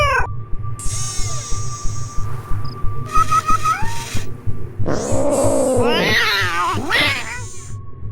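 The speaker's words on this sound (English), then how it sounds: "Who's my favorite robotic cat?" Robotic cat in a Nancy Drew video game giving synthetic meows and warbling electronic purrs, loud and close over a pulsing low mechanical hum, with rising chirps and tones between calls.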